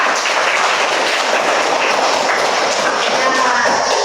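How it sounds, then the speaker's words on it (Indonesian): A room full of people applauding for group three in a classroom presentation, a dense steady clapping that holds loud and even throughout. "mari kita tepuk tangan untuk kelompok tiga"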